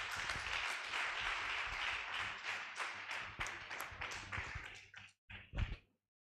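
An audience applauds after a talk on reading, literacy and using AI tools for research. Dense clapping fills the room steadily for about five seconds, then thins into a few scattered final claps.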